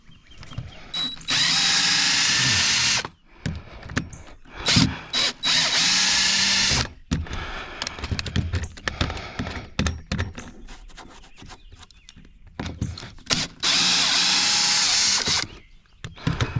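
A pump runs in a basement pumping out leaked tank oil, a loud mechanical whirring that starts and stops in three long bursts of about two seconds each, with clattering handling noises and quieter gaps in between.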